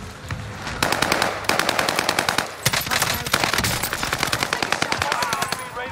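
Rapid automatic fire from an M13 rifle in Warzone, dense bursts of sharp cracks in fast rhythm, loud and close, continuing across the whole stretch with brief gaps between volleys.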